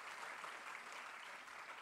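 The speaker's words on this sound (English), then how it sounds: "clap for yourselves" A school audience clapping for themselves at an event about adolescent skills, a soft, even wash of many hands heard at a distance, quiet and steady with no talking.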